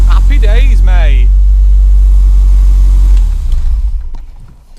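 A Renault 5 GT Turbo, its mouse-chewed fuel and boost lines now repaired, runs at a steady, close, loud idle with a deep rumble, while a voice is briefly heard over the start.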